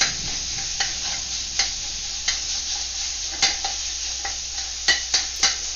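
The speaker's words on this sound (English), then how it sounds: "So you want to break up the pork so it's kind of evenly covering the bottom of the wok." Ground pork stir-fries in an oiled wok as it is broken up, a constant loud sizzle punctuated by regular sharp scrapes and taps of a spatula on the metal.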